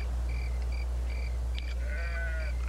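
Sheep bleat on a ranch in a few short, fairly faint calls over a constant low hum, with one longer wavering bleat near the end.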